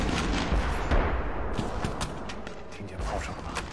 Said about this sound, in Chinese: 听见炮声了吗？